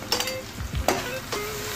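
Vegetables and boiled chicken pieces fry on a tawa for a brief moment, giving a soft sizzle broken by a few quick stirring scrapes and clinks.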